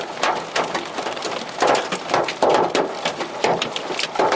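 Hail pelts down outdoors in a dense, loud clatter of many close impacts arriving in gusty surges, with no voices.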